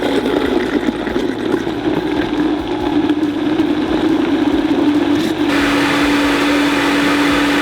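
A blender purees mango with maple syrup, salt and cardamom for lassi ice pops, a loud, steady whir that shifts to a smoother, higher pitch near the end.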